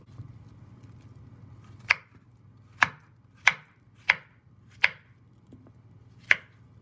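A knife chops through ripe plantain on a board in six sharp, separate strokes spaced about a second apart, each crisp and close over a low steady hum.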